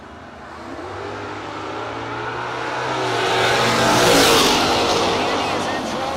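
Camaro drag racing car on a no-box open drag strip, engine rumbling steadily and swelling louder as it builds revs near the four-second mark, with a broad roar and a low drone, announcer voice over the top.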